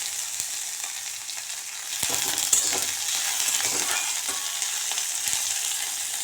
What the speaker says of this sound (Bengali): এবার আমরা দিয়ে দিচ্ছি টমেটোটা দিয়ে এভাবে নেড়ে নেবে